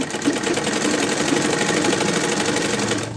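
A sewing machine runs steadily and loudly, stitching blouse fabric with a firm lockstitch, its fast even mechanical whir going without a break before easing off at the very end.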